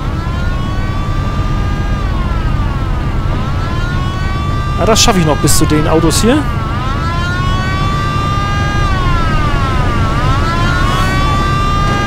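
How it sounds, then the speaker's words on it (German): Police car siren in the video game Mafia, a wailing tone rising and falling repeatedly under steady car engine noise while someone talks over it, with a brief burst of sharp game sounds midway. "Sirene, wo kam die jetzt her?"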